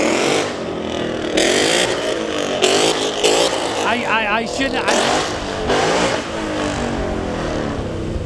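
A 2015 Ford Mustang GT with straight pipe headers revs at a county fair, its engine barking in repeated loud bursts. People talk over and between the revs.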